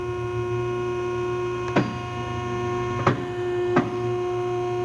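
A tube end forming machine cones the end of a tube, heard as three sharp clunks spaced about a second apart over a steady loud electrical hum, with no voices.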